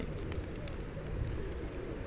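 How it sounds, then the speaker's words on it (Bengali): Thousands of pigeons gathered at a busy outdoor site, a dense steady wash of cooing and fluttering with a low rumble throughout, and no clear voices. "এই যে দেখতে পাচ্ছেন হাজার হাজার কবুতর"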